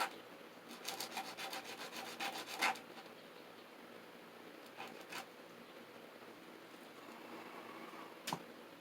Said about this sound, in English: Now this one I can't sand the underside. No. I'm going to sand the top side.